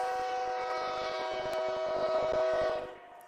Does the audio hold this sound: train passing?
yes